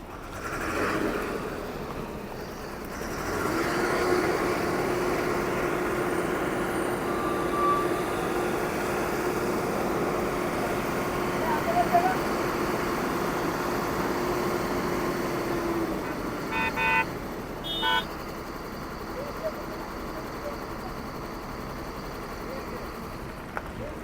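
A truck with a broken axle runs its engine to rebuild lost air pressure on a road with a drop behind it, giving a steady, loud, continuous rumble with a few short tonal blips partway through.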